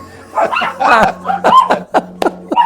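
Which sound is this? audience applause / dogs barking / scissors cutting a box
dogs barking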